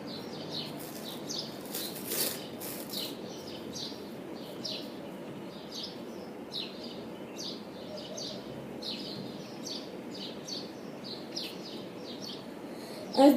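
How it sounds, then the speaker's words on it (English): Small birds chirp and tweet outdoors in a steady scatter of short, bright calls, moderately near and repeated throughout, with faint rustling and a brief louder thump at the end. "the birds sing, like they're chirping"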